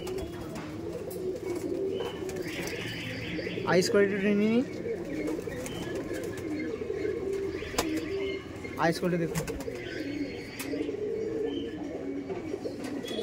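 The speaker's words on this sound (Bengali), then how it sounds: "এই দেখুন কাশমাদম পায়রা" Kashmadam pigeons at a Giribaj pigeon market coo in a low, steady background murmur, with someone talking intermittently over the birds.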